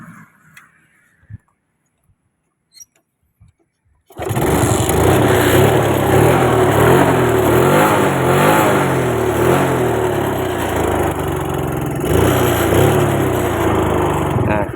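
A few faint clicks and knocks come first, then a second-hand motorcycle with a sidecar (saleng) starts abruptly and keeps running. Its engine revs loudly, with a rough, busy mechanical clatter close by.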